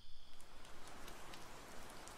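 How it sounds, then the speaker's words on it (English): Steady rain falling outdoors in cool, windy weather, a dense continuous patter of drops on surfaces at moderate level with no voices. "it started to rain"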